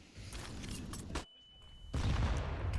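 A grenade blast in a CS:GO match on the Nuke map during a pro tournament game, heard as dense gunfire and game noise, a sudden near-silent muffled gap with a thin ringing tone, then loud busy battle sounds returning.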